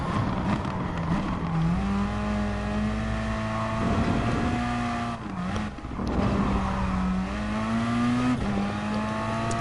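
A GT race car engine in Gran Turismo Sport, racing at night on a seaside circuit, holds a steady loud whine with rising and falling revs through gear changes and a brief dip in the middle.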